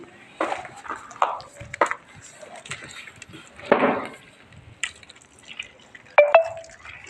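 Squeezed wheat-dough balls for kurdai are rinsed in a vessel of water, making scattered splashes and dripping sloshes. The sounds come in separate close bursts with quiet gaps between them.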